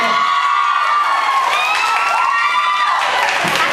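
Studio audience cheering and clapping for P'Boy on a Thai talk show, a sustained loud crowd roar with whoops and shouts over steady applause, no talk on top.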